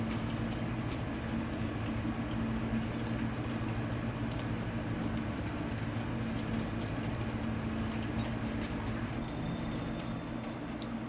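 Quiet, steady rumble of a train driving in a video game, a low engine drone with a constant hum running the whole way through and occasional faint clicks.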